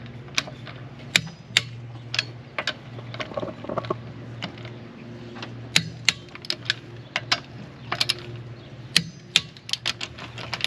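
A torque wrench clicking sharply as car wheel lug nuts are tightened to 89 foot-pounds, a series of crisp close clicks at irregular intervals over a low steady background hum.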